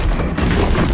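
A creeper explodes in Minecraft Dungeons with a loud, deep, booming burst that fills the whole moment, heavy at the low end.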